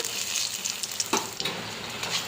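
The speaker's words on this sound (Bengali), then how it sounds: "গোটা গরম মশলা এলাচ দারচিনি লবঙ্গ আর গোটা জিরে দিয়ে দিলাম শুকনো লঙ্কা দুটো তেজপাতা দিয়ে দিলাম" Whole garam masala, cardamom, cinnamon, cloves, cumin seeds, two dry red chilies and bay leaves sizzle in hot oil for a vegetarian khichuri, a close steady crackle with one brief scraping stir and no talk.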